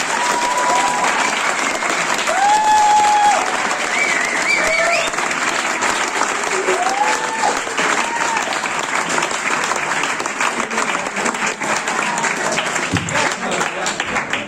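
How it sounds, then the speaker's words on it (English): An audience gives a round of applause for the parents at a gathering, a dense sustained clapping that swells early and holds steady with faint voices and whistle-like sounds underneath. "can I have a round of applause for our parents, please?"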